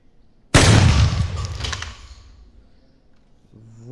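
A Lego toy rifle fires once with a sharp, loud snap that trails off over about a second and a half, followed by quiet handling noise.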